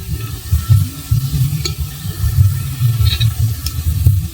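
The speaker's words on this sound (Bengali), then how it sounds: "এই দেখুন পেঁয়াজ আমার বেরেস্তা হয়ে গেছে, কি সুন্দর ভাজা হয়েছে দেখুন।" Sliced onions deep-frying in hot oil toward crisp golden birista for biryani, a steady close crackling sizzle with bubbly bursts throughout, no voices.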